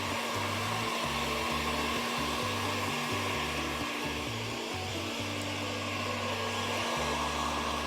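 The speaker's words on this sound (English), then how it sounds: "With the heat gun, if you don't have one, you can use a regular hairdryer." A heat gun blows hot air steadily over a painted old dresser being restyled, a loud continuous whooshing drone with a low motor hum that pulses and stutters throughout.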